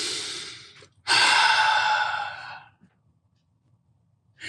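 A person draws one slow deep breath in and lets it out again, two close breathy rushes of air separated by a short pause, then near silence.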